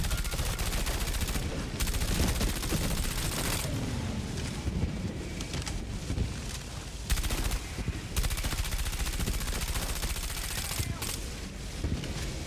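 Repeated shotgun blasts from a video game fire in quick bursts across the whole stretch, loud and dense, broken by a few short gaps, while a voice talks over the gunfire.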